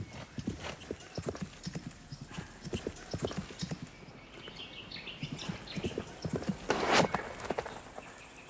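Galloping horse hooves beating in a quick, uneven clip-clop rhythm, with a whinny or rustle rising near the end. The hoofbeats are moderately close and not especially loud.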